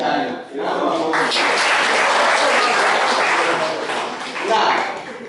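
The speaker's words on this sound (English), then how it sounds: "A round of applause." A crowd applauds steadily at a Kwara chemistry quiz competition, with dense, continuous clapping that swells near the end.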